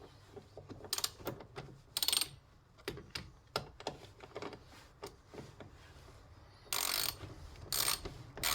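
Faint, close clicking of a socket wrench tightening a fastener on a small scooter that won't start, in uneven bursts of quick ratchet clicks with short pauses and a few louder scraping handling noises.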